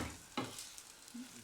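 Msemen flatbread fries quietly in a pan, a soft steady sizzle with one brief scrape or tap near the start; faint and close, with no talking.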